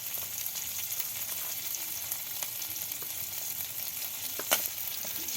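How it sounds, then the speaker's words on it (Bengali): Chopped onion, green chilli and ground spice paste sizzle in hot oil in a village kitchen, a steady, close frying hiss with a few brief pops and crackles, and no voices. "এবার ওই তেলে পেঁয়াজ কুচি দিয়ে দিল, কাঁচামরিচ কুচি, সব রকমের মশলা বাটা দিয়ে দিল।"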